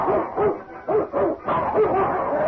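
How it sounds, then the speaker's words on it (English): Dog barking in a Lone Ranger radio drama as the dog leaps from the brush at an enemy: a run of close, loud barks and yips in quick bursts, filling the whole moment. "a second form hurtled from the brush toward him. It was Arizona's dog."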